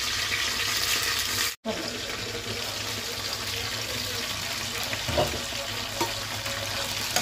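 Green chillies fry in a pan for an ivy gourd chutney, making a steady, close sizzle that cuts out for a brief moment and then carries on with a few soft stirring clicks.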